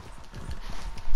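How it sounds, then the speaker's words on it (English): Horse hooves clip-clopping in the video game Red Dead Redemption 2, a quick run of close, low thudding steps over a brief moment, growing heavier at the end. "That's a horse."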